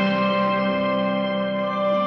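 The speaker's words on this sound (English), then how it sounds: "almost like a steel, but in an octave that's super almost screeching to hear by itself," A high steel-like synth tone sits an octave up, nearly screeching, ringing as a steady sustained layer with a dense harmonic stack for about two seconds, alone without voices.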